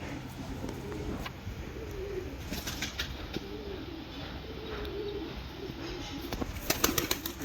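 Soft, distant cooing of Sialkoti pigeons with occasional fluttering wingbeats against a quiet background hiss.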